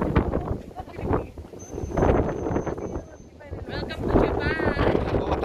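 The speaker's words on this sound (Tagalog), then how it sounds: "Medyo mahangin." Gusty wind buffets the microphone with low rumbling bursts while people talk over it.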